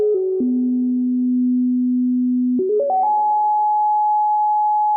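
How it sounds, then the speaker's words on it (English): A steady modular synthesizer tone holds a low pitch, then steps upward in quick increments to a higher sustained note, washed in a smooth reverb tail from a Mimeophone. "we just output sound from this module to the mimeophone to add some nice reverb"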